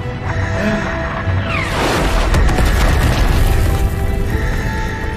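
A huge roaring explosion of an overloading core in a VR video game erupts and rumbles on, loud and sustained, with a rising whoosh as it bursts.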